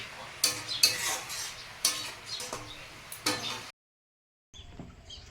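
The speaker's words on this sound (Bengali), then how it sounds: "একটু নাড়াচাড়া করে শুকনো শুকনো করে ভেজে নিয়ে সবাইকে খেতে দেবো" Food being dry-fried with a pinch of turmeric and stirred in a pan, with a few sharp scraping and clanking strokes of a utensil over a low sizzle, then a brief silent gap before faint sizzling resumes.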